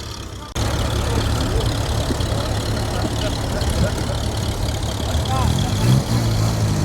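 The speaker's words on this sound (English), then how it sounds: "There goes a little Anglia." A classic Ford Anglia's engine runs as the car drives off at a cold outdoor meet of classic cars and tractors, a steady low rumble that fills the clip under some speech.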